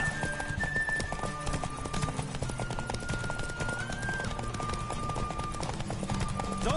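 A horse gallops at full speed in The Witcher 3, its rapid hooves drumming in a steady, close clip-clop throughout, with game music tones ringing over the top.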